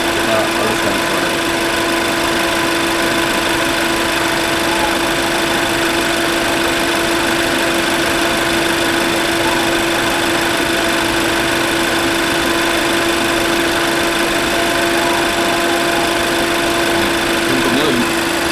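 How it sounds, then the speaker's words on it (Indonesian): A car engine idles steadily with a constant hum and a strong vibration, loud and unbroken throughout, with no pauses or revving. "kita akan perhatikan nih suara mesinnya ya"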